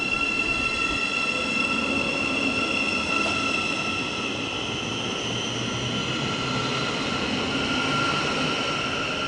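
A Thameslink Class 700 train bound for St Albans City runs through West Hampstead station, with a sustained rumble and bright, steady high whining tones from motors and wheels, fairly close and constant.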